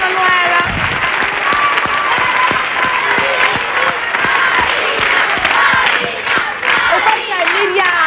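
An audience applauds in a steady, dense wash of clapping for a woman named Manuela, loud and close throughout, with voices and cheers mixed into the crowd noise.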